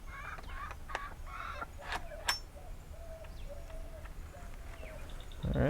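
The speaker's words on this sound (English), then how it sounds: "Here's the rooster waiting for me." Backyard homestead rooster and chickens making bird calls and clucks through a door opening, with scattered chirps and short tonal calls over low background noise, fairly near and moderate in level.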